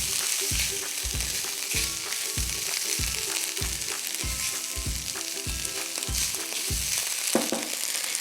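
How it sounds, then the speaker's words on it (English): Tomato puree being stirred through sizzling food in a frying pan for butterbean, chorizo and feta soup, with steady frying hiss and a regular rhythm of spoon scrapes and taps against the pan, no voices. "Give a little stir just to coat everything."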